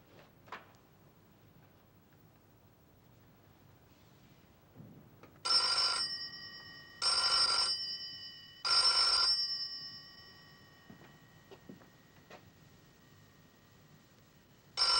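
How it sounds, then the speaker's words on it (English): A telephone bell rings three times in even bursts of about a second each, clear and fairly loud against a quiet room in a 1970 spy film, with a fourth ring beginning at the end. "Ring 3 times and hang up."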